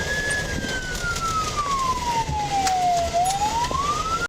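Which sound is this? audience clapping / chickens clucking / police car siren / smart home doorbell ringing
police car siren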